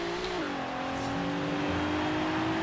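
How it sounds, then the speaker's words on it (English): A V6 car engine revs in the racing game Forza Horizon 3, its steady tone climbing and then settling into a smooth drone at moderate volume with no talk over it. "Oh, the V6 sounds like a Nissan."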